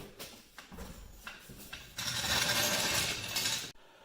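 A car jack being ratcheted down under a 2004 Dodge Durango during a front brake job: quick metallic clicks, then a denser grinding ratchet that runs for a couple of seconds and stops abruptly.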